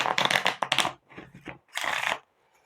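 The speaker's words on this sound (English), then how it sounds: "And the concept is you just shuffle these up." A deck of game cards is shuffled in several short riffling bursts close up, separated by brief pauses, with no talk.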